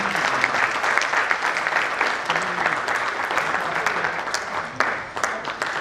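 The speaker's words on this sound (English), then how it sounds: "Ladies and gentlemen, can we have a louder applause from everyone?" Sustained, fairly loud applause fills a tourism conference session, a dense wash of clapping from the audience that holds steady before easing slightly near the end.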